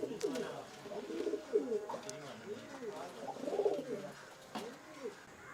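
Pigeons coo in a pigeon loft, a faint repeated series of soft, low throaty calls in gentle overlapping rhythm, with a few brief clicks.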